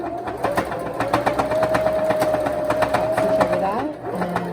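Domestic sewing machine backstitching over elastic on a fabric face mask, a close, fast, even motor whir with rapid needle clatter that slows and changes pitch near the end, with a voice talking over it.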